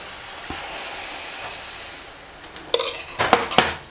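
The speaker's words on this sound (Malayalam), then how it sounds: "മാവ് കോരി ഒഴിച്ച് ചുടാം." Metal ladle scooping rava vellayappam batter and pouring it onto a hot pan, heard as a faint hiss followed by a few sharp clinks and scrapes near the end, close by.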